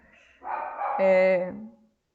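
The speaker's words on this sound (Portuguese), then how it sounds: "o cachorro tá latindo" Somewhere indoors, a dog gives a single drawn-out bark that rises into a whiny yelp, fairly faint and lasting about a second, with no voices.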